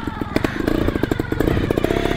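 Trials motorcycle engine running close and loud, a rapid uneven putter of firing pulses with throttle blips, steady throughout with no talk.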